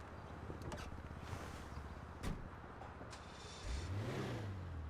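A Zion Classic car in GTA 5 Online, styled like an 80s BMW, runs with a steady, close engine drone, then revs up sharply near the end with a rising growl and no voices.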